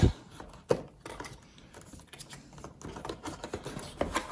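Knife or blade slicing through the packaging of a PNY Pro Elite 500GB portable SSD box, a run of close, crisp scratchy cuts and tapping clicks at an uneven rhythm, with a sharper snap near the start.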